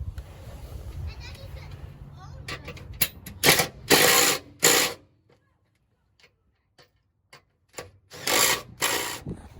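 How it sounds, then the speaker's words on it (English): Step bar bracket bolts are tightened to the body bolts on a 2020 Honda Ridgeline, with several close bursts of rapid ratcheting clicks separated by quiet pauses and faint talk early on. "we're going to tighten our brackets to the body bolts"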